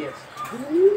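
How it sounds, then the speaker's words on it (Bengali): A pigeon coos close by, a short low rolling call that rises and swells at the end, with faint background noise. "এটি হচ্ছে মাদি কবুতর"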